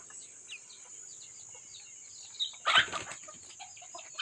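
A red junglefowl calls near a coop on a rural farm plot, a brief burst of crowing and flapping around the middle over a backdrop of faint bird chatter and a steady high insect whine.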